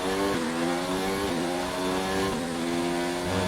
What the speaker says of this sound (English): make a huge run up the hill, extracting all the revs that we possibly can